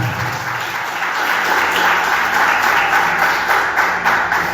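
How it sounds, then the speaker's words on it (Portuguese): A church congregation claps loudly and continuously for several seconds, a dense sustained applause with no voices standing out. "Vamos aplaudir a Jesus bem forte."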